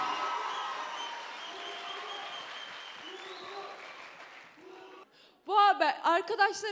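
An audience at a school debate competition final applauds through several seconds as music plays along, the clapping fading before a voice starts speaking at the end.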